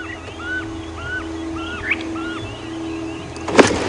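At a game reserve on a morning safari drive, a fork-tailed drongo repeats a short, rising-and-falling whistled call several times in a rough imitation of another bird, over a steady vehicle engine hum, ending with a brief rustle.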